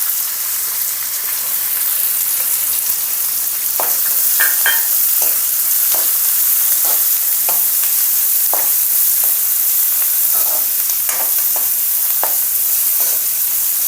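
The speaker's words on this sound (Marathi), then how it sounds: "लसूण चांगला खरपूस झाला की त्यात आपण कांदा घालूया" Onion frying in a pan with garlic already browned: a steady bright sizzle with irregular clicks and scrapes from stirring, close and continuous throughout.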